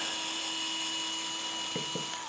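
Steady high whine of an electric screwdriver spinning out screws from an Exway X1 Pro electric skateboard hub motor with Cloud Wheels donuts, close and continuous, with two brief pitch drops near the end.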